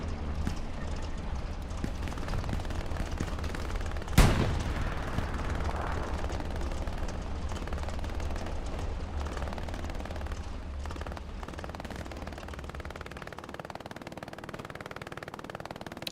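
MG 42 machine gun fire in a World War II video game battle, a distant sustained rattle of rapid shots running throughout, with one sharp, loud crack standing out near the start.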